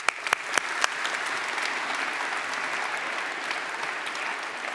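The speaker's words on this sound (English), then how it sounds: "Give yourself a round of applause" A conference audience gives a round of applause, starting with a few sharp individual claps that swell into a steady, even wash of many hands for several seconds.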